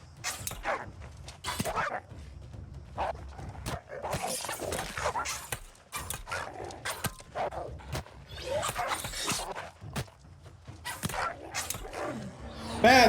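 A dog barks in the video game New World Aeternum, with repeated bow-wow barks and yips scattered through a busy, noisy game soundscape full of creaks and mechanical clatter.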